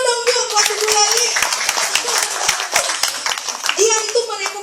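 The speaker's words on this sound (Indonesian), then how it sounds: "tepuk tangan dulu dong Bu buat Bu Leli" An audience at a health testimonial gathering claps for Bu Leli, a steady patter of many hands continuing throughout, with a voice briefly audible over the clapping.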